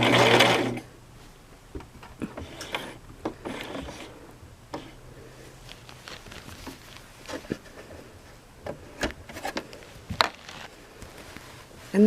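A Brother LX 3817 sewing machine stitching thick vest fabric runs in a short loud burst, then gives way to quieter scattered mechanical clicks, taps and handling noises close by.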